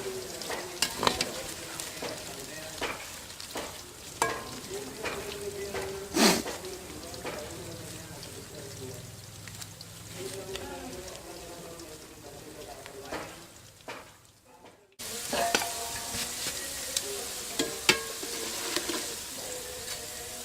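Homemade French fries sizzle steadily in hot oil over high heat, with stirring clatters and spoon knocks on the pan throughout, while someone talks over the frying and another burst of sizzling comes near the end.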